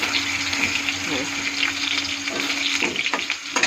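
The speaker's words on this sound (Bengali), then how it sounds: "আলুটা আমার একটু ভাজা ভাজা হয়ে গেছে" Potatoes fry in a pan with a steady, loud sizzle close by, broken near the end by a few stirring scrapes and clatters.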